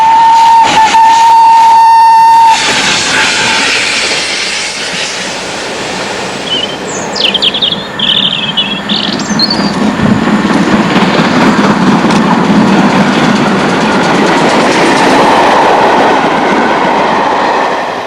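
Steam locomotive 460 Burton Agnes Hall hauls a shuttle train between Oxford and Didcot, a brief steady whistle tone opening onto a loud, continuous rumble and clatter of the moving train.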